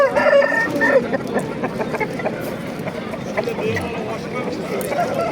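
Chickens cluck and a large rooster crows briefly near the start, under busy outdoor chatter and people talking close by at a bazaar in Namangan, Uzbekistan.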